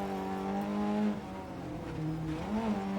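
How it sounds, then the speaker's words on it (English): A rear-wheel-drive rally car in EA Sports WRC drives on snow, its engine note droning steadily and shifting in pitch as it revs up and eases off, loud and close, with no talking. "I have to say though, I do like the sound of this car."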